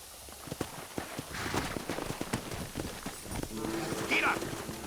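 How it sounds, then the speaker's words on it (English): Horses clip-clopping in the video game Red Dead Redemption, hooves plodding in an irregular walking rhythm over a low rumble of ambience, with a faint higher call near the end. "horses are over here"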